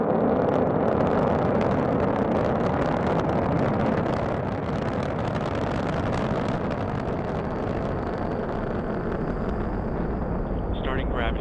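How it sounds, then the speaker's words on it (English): SpaceX Falcon 9 rocket launching to the International Space Station, a loud, dense, continuous roar with rumbling crackle that holds steady throughout, heard without talk. "launch of the SpaceX Falcon 9 rocket"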